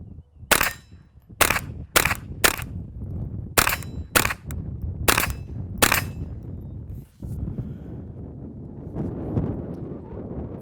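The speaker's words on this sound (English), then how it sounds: "we've now got some Blazer 22 we're running through here. Again, we'll fire at steel and then off in the dirt." Suppressed .22 shots from Blazer 22 ammo through a CMMG Defcan 22 suppressor, fired at steel and into dirt outdoors: about eight sharp cracks in uneven pairs, then wind noise.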